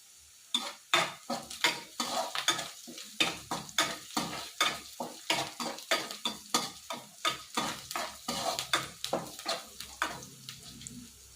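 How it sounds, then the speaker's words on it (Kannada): Dill seeds and spices crackle and sizzle in hot oil as tempering, with a quick series of sharp stirring scrapes against the pan repeating steadily. "ಈಗ ಇದನ್ನ ಉತ್ಕೊಂಡು ಒಗ್ಗರಣೆ ಹಾಕೋಣ"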